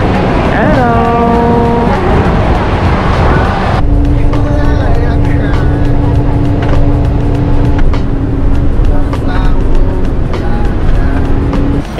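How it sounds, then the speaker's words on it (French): Bus engine drones loudly and steadily on route 11 toward Tai O village in Hong Kong, with gear-change shifts in pitch partway through; faint voices are mixed under the close, continuous motor noise. "Et ce sera avec le bus 11 que nous allons rejoindre Tai Ho."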